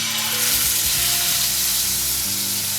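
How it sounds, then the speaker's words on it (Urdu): Chicken pieces sizzling loudly in an oiled cast iron pan for tandoori chicken, a dense continuous frying hiss with some low clunks as pieces settle, close and without talk. "اور یہاں پر میں اب یہ چکن اس کے اندر ڈالنے جا رہی ہوں"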